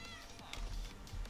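A cat meows in Minecraft, a short bright in-game mew rising over a low steady background hum, with no talk over it.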